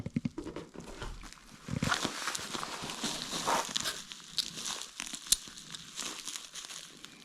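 A plastic packaging bag crinkles and rustles continuously as a spinning fishing tackle set is unwrapped, close and fairly quiet, with scattered crackles and one sharp snap.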